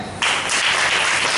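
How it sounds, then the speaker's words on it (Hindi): Audience clapping at a Ram Katha religious discourse, bursting in suddenly and continuing as a dense, steady patter of many hands, close and fairly loud. "हाँ तालियां"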